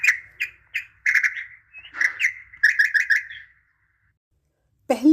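A small sparrow chirps repeatedly in quick, bright bursts, some notes in rapid trills, then falls silent before a final squawk.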